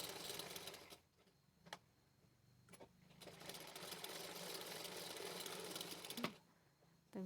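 Sewing machine stitching a blouse back neck, running in long steady bursts with brief pauses and clicks between runs, close and fairly quiet.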